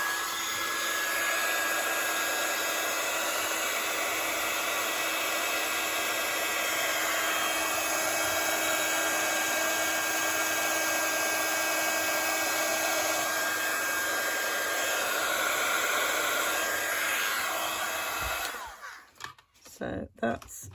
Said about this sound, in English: So I am going to get my heat gun and melt that.